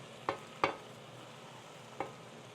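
Spinach going into a frying pan with chicken and tomatoes: a faint, quiet sizzle broken by three short sharp taps.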